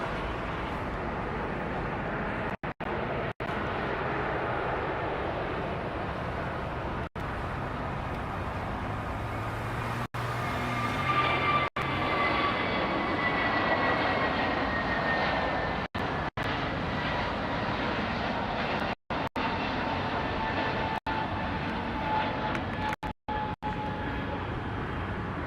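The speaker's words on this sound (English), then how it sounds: "that Neo is heading to Chicago. It's an A321 Neo delivered to them in 2019" Airbus A321neo airliner delivered in 2019 departing LAX for Chicago, a broad engine rumble that builds and holds with a thin descending whine, brief audio dropouts scattered through, no voices.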